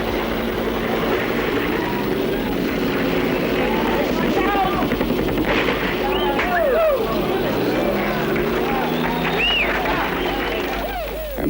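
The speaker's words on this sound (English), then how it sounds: "Dozens of helicopters flown by South Vietnamese pilots arrive uninvited." Dozens of helicopters flown by South Vietnamese pilots arrive during the Vietnam evacuation, with a continuous rotor and engine drone under a voice talking throughout.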